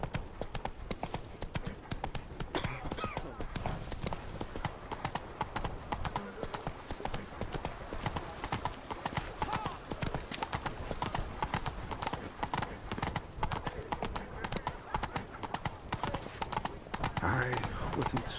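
Roach the horse trots in The Witcher 3, hooves clip-clopping in a quick, steady rhythm throughout, with a voice talking over the hoofbeats at times.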